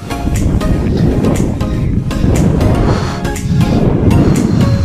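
Strong wind roars continuously against the microphone at the Edge of the World cliffs near Riyadh, Saudi Arabia, a heavy low rumble with gusty buffeting throughout.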